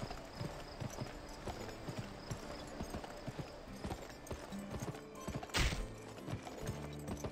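Hooves of a galloping horse beat in a quick, steady rhythm in the Xbox 360 Western game Gun, with a sharp burst near the end and faint game ambience beneath.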